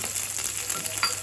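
Small onions fry in hot oil with tempering seeds, a steady close sizzle and crackle with light stirring and no voices.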